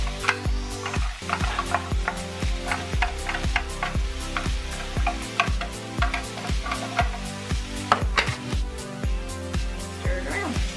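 Vegetables sizzle steadily in a hot skillet while a utensil stirs them in repeated scraping strokes, the frying hiss continuous and close.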